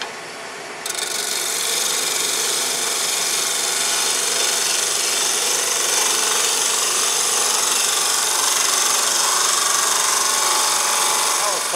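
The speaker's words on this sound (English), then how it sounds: "That's a gentle cut with the bevel." A woodturning tool's bevel rides a spinning wooden piece in a gentle cut, making a continuous, loud, even rasping hiss that holds steady throughout after a brief quieter start.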